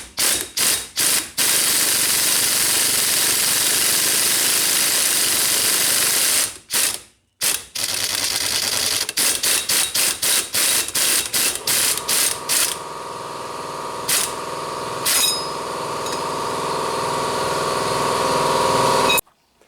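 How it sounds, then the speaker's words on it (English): An impact-style power tool drives a 3-jaw puller on a Nissan CVT drum in rapid rattling bursts, loud and close, then a steadier mechanical whir with a few sharp clicks. "So we can also use the same 3-jaw puller. Try to get this drum off."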